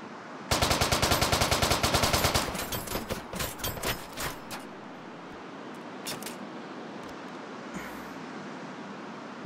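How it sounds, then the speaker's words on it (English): Gunfire in the VR game Hot Dogs, Horseshoes & Hand Grenades opens with a loud, rapid automatic burst, then breaks into scattered single shots that fade to occasional distant pops. "Whoa, who's shooting at me?"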